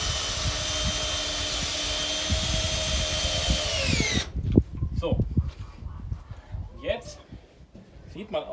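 A power drill drives screws into wood while building a wooden veranda, a steady loud whine that cuts off abruptly, followed by clattering handling noises and faint voices.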